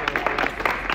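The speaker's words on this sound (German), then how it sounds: "Applaus für das Off-White-Shirt." Brief burst of clapping from a small group, a quick flurry of close, uneven hand claps over a second, moderately loud with a faint room murmur beneath.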